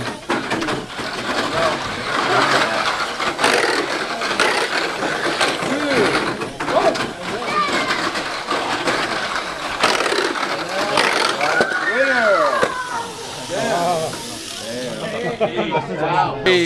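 A Tamiya Mini 4WD toy car fitted with an FMS2 sliding damper races around a track, its tiny motor whining and rising and falling in pitch as it laps, under excited talk and exclamations throughout.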